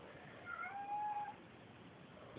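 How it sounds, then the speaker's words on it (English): A cat gives a brief, faint meow, a short tonal cry rising and falling over a quiet background hiss, alone without talk. "And there goes the cat talking."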